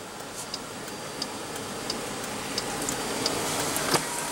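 Soft, regular clicking ticks repeat about every two-thirds of a second over a low steady hum, the hazard flasher of a 2015 Dodge Durango Limited 3.6 L V6 running.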